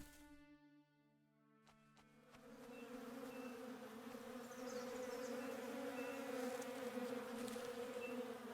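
Bees buzz in the survival video game Above Snakes, a faint swarm drone that starts after a short quiet moment and swells into a steady, layered hum, with no voices.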